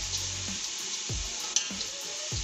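Vegetables for Hakka noodles sizzle in a pan while being mixed, with about five scraping stir strokes over a steady soft hiss, close and quiet.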